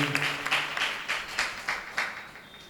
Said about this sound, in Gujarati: એકવાર જોરદાર તાળીઓના નાદથી આપણે સ્વામીજીની આ કથાને વધાવેલી